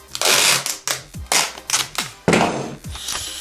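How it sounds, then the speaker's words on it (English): Clear adhesive tape is ripped off the roll in about five quick, loud, tearing bursts and pressed onto a book cover, each pull sharp and close with short gaps between. "we're gonna take some tape and attach it onto the book"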